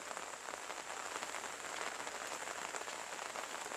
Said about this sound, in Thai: พาดูบรรยากาศฝนตก